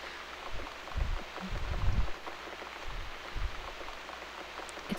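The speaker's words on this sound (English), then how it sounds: "It's raining blood, Joe." Steady rain falls in the video game Downfall, a dense, even hiss of drops with a few heavier low thumps near the start, close and continuous with no voices.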